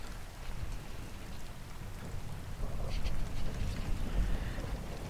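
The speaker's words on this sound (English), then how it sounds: "and the thunder in the distance." A rainstorm over the sea, heard from indoors, brings a steady wash of rain with low, distant thunder rumbling underneath and slowly building, with no talking.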